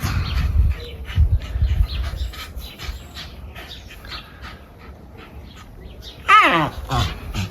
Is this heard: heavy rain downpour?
no